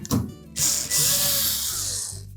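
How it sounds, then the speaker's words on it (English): Ratchet clicking quickly while backing out the 1/4-inch hex head screws that hold the ice dispenser arm assembly in a Whirlpool refrigerator, a close, loud, continuous rasp lasting about two seconds with no voices. "Now our next step will be to remove these 2 1/4-inch hex head screws that secure that assembly to the housing."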